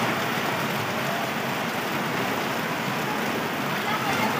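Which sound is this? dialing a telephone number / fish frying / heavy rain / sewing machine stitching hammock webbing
heavy rain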